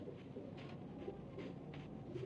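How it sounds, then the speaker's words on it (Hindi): A Rampuri Teddy pigeon coos softly, its low rolling calls repeating in a faint rhythm against quiet room noise. "लो जी ये कबूतर है जी"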